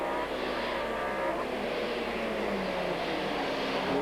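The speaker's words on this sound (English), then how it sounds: "Into braking at Lodge, a dive on the inside there, and a beautiful move by Martin Short that takes him through." TVR Tuscan race cars racing around a circuit in 1995, a steady loud engine roar with rising and falling pitch as cars pass, without talk.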